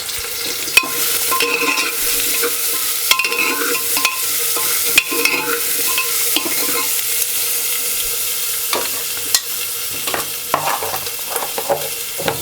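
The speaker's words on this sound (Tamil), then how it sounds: "இடித்து வச்ச ஜீரகம், மிளகு இதெல்லாம் ஆட் பண்ணி நல்லா கிளறி விட்டுக்கோங்க." Onion, crushed cumin, pepper and salt fry in a pan for kaal kulambu (a Tamil curry) while being stirred. A steady, close sizzle runs throughout, broken by recurring scrapes and clicks of the spoon against the pan.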